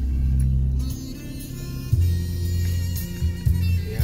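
Cars queuing in a traffic jam in the town of Leces, Indonesia: a close, steady low engine rumble and idling hum with brief revs and shifts, no voices.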